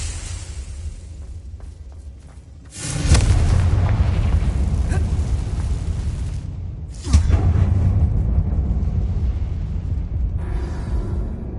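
A Confringo fire spell explodes inside a tomb in Hogwarts Legacy, with two heavy booming blasts a few seconds apart, each followed by a long, loud rumbling roar.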